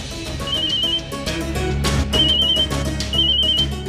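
Mobile phone ringing where it was left behind at home, a repeating electronic ring tone in short beeping bursts, heard over a dramatic music score.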